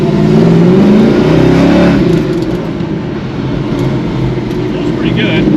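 Hot rod with a lumpy camshaft and tall gearing pulling hard in first gear from a roll, a loud, close engine roar that holds steady before easing slightly, with a voice talking over it.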